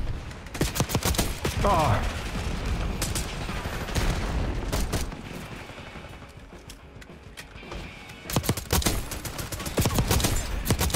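Rapid automatic gunfire from a favored weapon in the video game Black Ops 6, loud bursts of shots with short pauses and mechanical clicks between them, while a player exclaims briefly.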